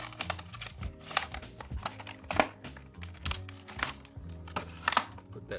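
The packaging of a slate black wallet-type phone case for a Samsung Galaxy Note 10+ is opened by hand, close up, with a run of crinkles, taps and rustles and no talking.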